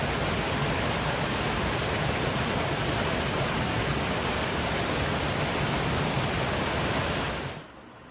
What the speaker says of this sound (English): The water flows through the rock face into this pit.